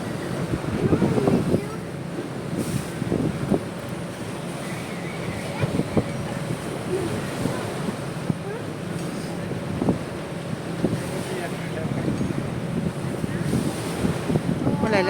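Wind and sea waves wash steadily around a boat out on the Gulf of Saint-Tropez, with gusty microphone buffeting and a few faint voices in the background throughout.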